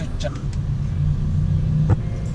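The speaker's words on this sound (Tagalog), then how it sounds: "This is the traffic in the Philippines." Road traffic in the Philippines rumbles steadily with car and engine noise close by, a low continuous drone under a brief voice and a few passing tonal sounds.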